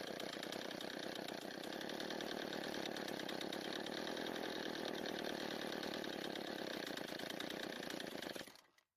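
A Ryobi string trimmer's small two-stroke engine idles steadily after a carburetor adjustment, a close, even buzzing drone that runs for several seconds and then cuts out abruptly.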